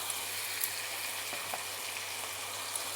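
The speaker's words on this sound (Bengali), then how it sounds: "এবার দিয়ে দিচ্ছি পেস্ট করা পেঁয়াজ," Onion paste fries with ginger and garlic paste for a chicken curry, giving a soft, even sizzle with faint crackles throughout and no talking.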